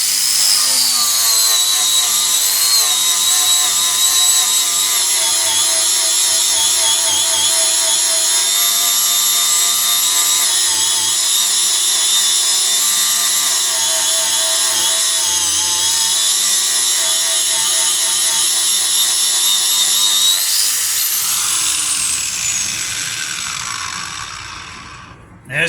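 A Pferd Policlean stripper disc on an angle grinder strips heavy mill scale from a 5mm steel sheet, giving a loud, steady high-pitched grinding whine that holds for about twenty seconds before spinning down.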